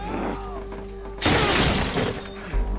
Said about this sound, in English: That is really thick glass.